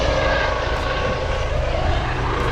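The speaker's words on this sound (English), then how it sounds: "there's a helicopter taking off" A helicopter lifting off nearby, its engine and rotor making a loud, steady, rumbling drone that holds without a break throughout, with no voices.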